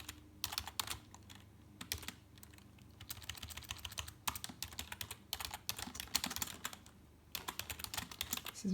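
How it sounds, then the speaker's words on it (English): Fast, uneven clatter of keys on a computer keyboard, quiet and close, in quick bursts separated by brief pauses, with nobody speaking. "This is really hard to type while you're putting your arms around a camera."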